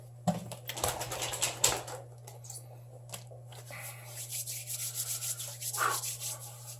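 Samsung Note 5 phone glass being scrubbed lightly on a flat surface, quiet close rubbing strokes in irregular bursts over a steady low hum.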